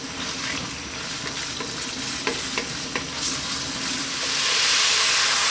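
Liver frying in a pan over medium heat after a vinegar wash, a steady sizzle broken by a few scraping stirs, the hiss swelling louder toward the end; no voices.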